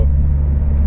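A Honda S2000 engine idles while warming up, a loud, steady low rumble with an even drone throughout.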